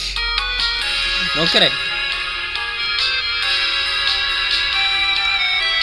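A phone ringing in the video game Undertale, a short run of bright chirping ring tones over steady game music, with a person talking over it.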